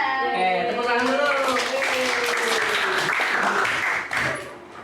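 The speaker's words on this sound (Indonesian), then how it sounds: "tepuk tangan dulu" Children in a classroom give a loud, sustained round of hand clapping that lasts several seconds before fading, with young voices calling out over the applause.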